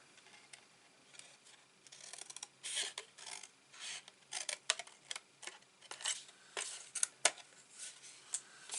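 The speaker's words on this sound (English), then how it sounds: "We're going to cut down there and we're going to cut up there." Paper card scored and cut with a blade for a Christmas advent calendar craft, quiet scraping and rasping strokes in short irregular bursts, close and faint, with no talking.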